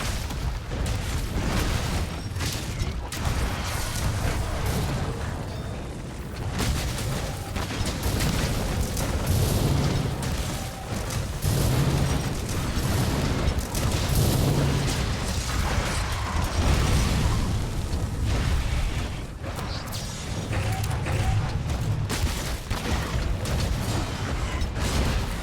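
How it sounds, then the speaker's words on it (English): Repeated Wyrmburst Stake blasts from four gunlances in a monster-hunting game battle against a Rathalos, a continuous clatter of mechanical clanks, booms and pops layered over one another with no talk. "He actually looks really silly with all those Wyrmburst Stake blasts on"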